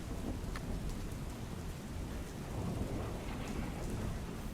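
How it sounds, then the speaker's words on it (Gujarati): A heavy overnight thunderstorm pours down on Umargam in Gujarat's Valsad district: dense, steady rain roars close by while deep thunder rumbles underneath, with no voices. "મધરાત્રે વીજળીના કડાકા ભડાકા સાથે વરસાદ વરસ્યો"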